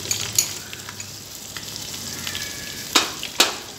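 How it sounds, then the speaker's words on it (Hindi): Ginger garlic paste frying in oil for chicken pulao, a steady soft sizzle with a few sharp clinks of a spoon stirring against the pot. "इसको भी हमने तकरीबन 2-3 मिनट जो है फ्राई करना है"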